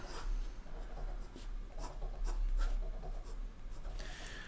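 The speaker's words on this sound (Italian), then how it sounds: "l'ha fatta Delta questa penna. Questo è il pennino EF 18 carati" Delta fountain pen with an 18 carat EF nib writing on paper, a steady scratchy rustle of strokes with short rhythmic bursts, close up and alone.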